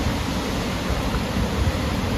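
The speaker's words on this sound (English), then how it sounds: "Now you can see the waterfall that crashes down into Connell Lake." A waterfall crashes down into Connell Lake on a wilderness trail at night. Its dense, steady broadband rush fills the scene, loud and unbroken, with no voices.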